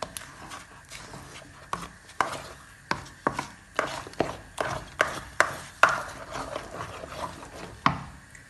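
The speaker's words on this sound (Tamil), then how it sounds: "கைவிடாமல் வடிவாக கிண்டணும்." Thick Tamil thothal being stirred hard in a pan, a slow series of heavy, sticky thuds and scrapes, each followed by a short pause.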